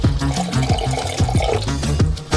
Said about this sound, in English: Pour 200 milliliters of water in.